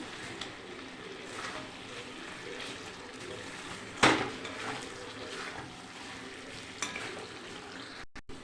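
Chicken curry with chopped green chillies frying in a pan after water is added, a soft steady sizzle with light scraping of a spoon stirring, one sharper clatter midway, no talking.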